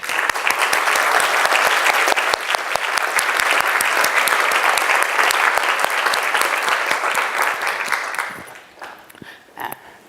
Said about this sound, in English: My supervisor didn't tell me to clap